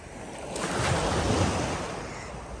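Sea waves at Restinga beach in Fnideq, Morocco, surge and wash ashore in a loud, steady roar that swells and then eases slightly, with wind rushing over the microphone and no talking.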